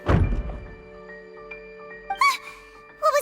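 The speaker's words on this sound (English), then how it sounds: "I seem to have accidentally knocked over a decoration." A single heavy thunk as a decoration gets knocked over in Genshin Impact, loud and close, followed by ringing tones and brief chime-like game sounds.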